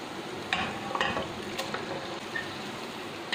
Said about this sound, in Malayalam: നമുക്കിനി ഈ ചിക്കൻ അങ്ങോട്ട് ഇട്ട് കൊടുക്കാം.